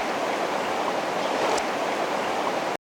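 The Manawatu-area river near Palmerston North City flows in a steady broadband rush of water, close and continuous with no talk, cutting off abruptly at the end.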